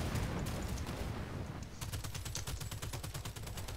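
Rapid SMG fire in the sci-fi shooter Second Extinction, a dense stream of bursts that turns into fast, evenly spaced shots midway, loud and continuous over a busy game background with no speech.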